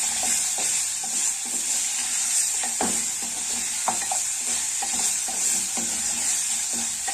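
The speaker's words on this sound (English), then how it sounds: "So I'm just stirring." Goat meat sizzling in a pot (sufuria) while being stirred, a steady bright sizzle under repeated scraping and clinking stir strokes at irregular intervals, close and loud, with no talking.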